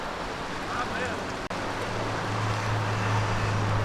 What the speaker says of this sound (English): Another look at how low the waterfall flow is now that we're in a dry period.